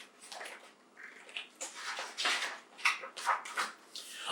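A dog whimpers in a series of short, high, breathy whines that grow louder toward the end, close by and with no talking.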